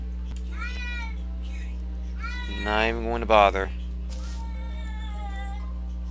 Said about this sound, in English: My cat's meowing again.